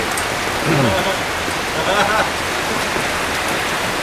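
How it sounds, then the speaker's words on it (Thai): Rain falling steadily as a broad, constant hiss at a Thai monastery, with a voice speaking briefly over it. "นี่ฝนตกเห็นไหมเนี่ย"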